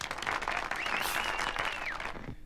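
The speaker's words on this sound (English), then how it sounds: "Give him a round of applause." A short round of applause on a podcast, a few seconds of clapping with a whistled or cheering tone over it, fading out at the end.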